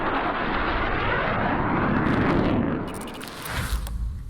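GAU-12 rotary cannon fires in a sustained, loud, rumbling roar that fades slightly toward the end.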